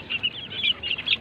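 Gamefowl roosters and hens on a breeding farm give a quick series of close clucks, short choppy calls repeating in a busy rhythm without any talk.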